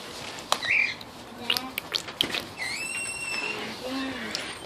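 Parrots give harsh, scattered squawks and short chirps in a house where a dog is also kept, with a person talking over them.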